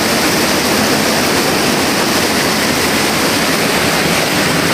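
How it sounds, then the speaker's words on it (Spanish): A mountain river in the hills of Chalatenango winds down between small waterfalls and rocks, a loud, steady, close rush of churning water with no pauses. "Cómo se ve que viene serpenteando el río ahí entre cascaditas, entre piedras."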